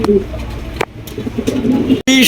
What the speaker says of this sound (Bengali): সুন্দর এক জোড়া জ্যাকোবিন কবুতর